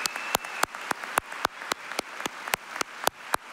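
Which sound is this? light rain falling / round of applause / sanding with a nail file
round of applause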